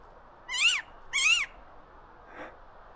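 A small orange-red bird calls twice in a forest, two close, clear, bright chirping notes about half a second apart, then a fainter third note, with quiet background between.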